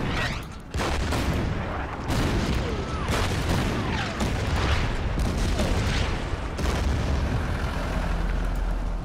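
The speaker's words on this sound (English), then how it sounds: "Then the artillery will start bombarding." Artillery barrage in the Order of Battle strategy game, a dense run of booming blasts and crackling bursts layered over one another, loud and continuous through the whole stretch with a few sharper impacts standing out.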